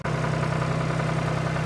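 A tractor engine running, a steady close low rumble with a rhythmic idling throb that holds unchanged, with no talk.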